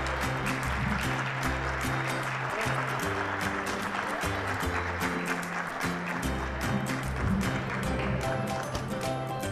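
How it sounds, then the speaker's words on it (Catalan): Dense, steady audience applause fills a children's cooking contest TV show during a birthday moment, sustained and close with a low musical bed running underneath the whole time. "Si voleu aplaudir més, podeu, eh?"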